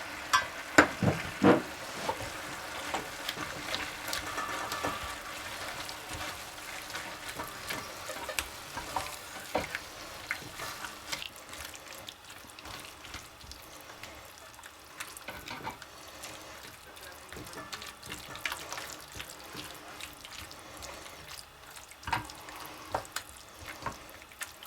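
Burrito casserole filling with chopped cilantro and lime juice being stirred in a hot pan, a soft steady sizzle broken by repeated scraping and clacking of the utensil, moderately close and without talk.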